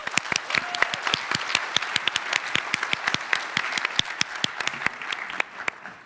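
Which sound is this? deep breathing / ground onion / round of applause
round of applause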